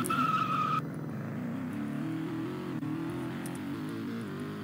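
Car driving in the Roblox video game, a steady engine drone under a high tire squeal that cuts off after the first second, then continuous road rumble.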